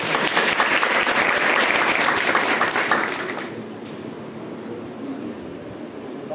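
A college audience at a motivation session applauds a Kargil war veteran, dense sustained clapping for about three seconds that then fades into room noise.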